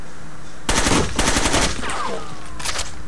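Automatic gunfire in the video game Rainbow Six Vegas 2, loud rapid bursts of shots with a short pause between them and a final quick burst, no voices over it.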